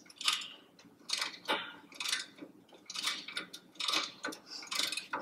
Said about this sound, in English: I placed my service wrench on, and I'm going to mid-seat the service valve